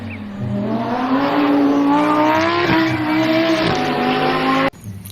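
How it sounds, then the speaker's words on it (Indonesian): A toy race car gives off a loud recorded racing-engine sound, a tonal revving whine that rises and wavers with tire-squeal effects, then cuts off abruptly near the end. "ada mobil balap"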